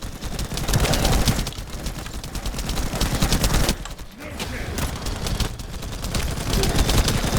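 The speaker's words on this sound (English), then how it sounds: "this machine gun feels really freaking good" A machine gun fires in the video game The First Descendant, with rapid, sustained bursts of loud gunfire that break off briefly and then resume.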